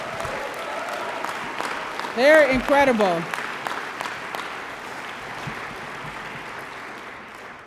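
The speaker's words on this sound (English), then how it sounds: "Let's give them another round of applause." Applause from the audience at an awards ceremony fills the clip as a steady wash of clapping for fellow honorees, with someone speaking briefly over it near the middle.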